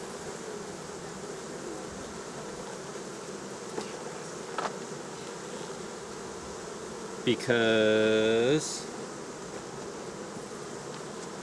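Honey bees swarm around an open hive as a honey super is added, giving a steady close buzzing drone throughout. A brief tonal whine cuts in near the end, and a voice speaks faintly once.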